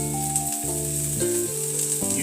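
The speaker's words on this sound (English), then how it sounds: "I'll start with the onions and garlic in a hot pan over a medium heat." Onions and garlic sizzle in a hot pan over medium heat for omelets, a soft steady hiss close by under sustained musical tones.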